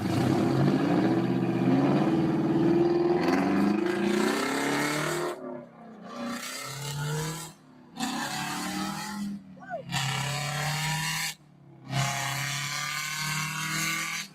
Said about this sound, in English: Listen to that rig go. That's a big, heavy truck, semi-truck.